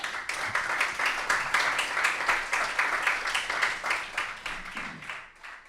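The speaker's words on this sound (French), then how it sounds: "Merci de l'applaudir et de l'accueillir chaleureusement." Welcoming applause at a public council event in Arles, a moderate crowd clapping in a brisk, even patter that sounds slightly distant and fades toward the end.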